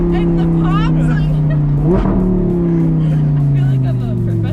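An Audi R8 V10 pulling hard from inside the cabin, its engine droning loudly and steadily with a brief shift-like break midway, under people talking.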